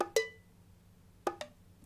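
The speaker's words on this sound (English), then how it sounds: "under drums and percussion acoustic drum kits studio brush kit." A studio brush kit from an acoustic drum kit library plays a sparse percussion pattern, three short, soft, dry hits with a gap between the first and the last two, quiet and alone.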